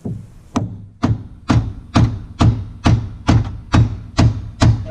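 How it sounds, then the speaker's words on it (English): Ten sharp metallic whacks struck at a steady one-per-half-second pace, a socket hammered onto the threaded end of an Argo ATV axle shaft, each hit close, loud and ringing briefly. "I'm going to see if I can whack this socket,"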